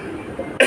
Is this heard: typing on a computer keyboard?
no